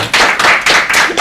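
A few people in a podcast studio clap their hands in a short, close burst of several quick claps with no talking over them.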